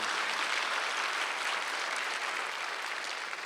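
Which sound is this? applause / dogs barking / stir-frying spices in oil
applause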